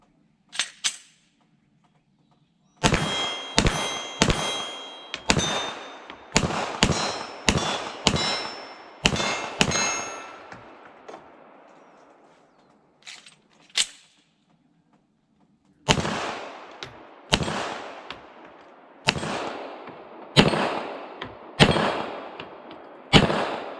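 Glock 17L longslide pistol fired at targets from about 15 yards on an outdoor deck: sharp, loud cracks in quick strings of several shots, separated by brief pauses, with a single isolated shot midway.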